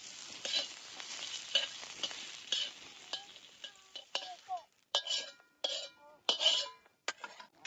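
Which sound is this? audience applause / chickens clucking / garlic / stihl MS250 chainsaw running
garlic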